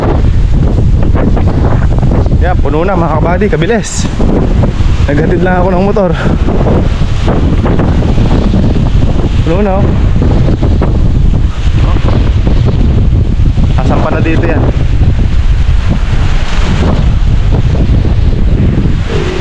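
Strong wind from Super Typhoon Uwan roars steadily and buffets the microphone for the whole stretch, while someone talks over it nearly throughout.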